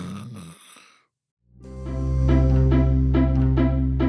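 A cartoon bear in a children's storybook reading lets out a loud, drawn-out snore after a brief voice, a single heavy rumbling breath that swells and holds near the end.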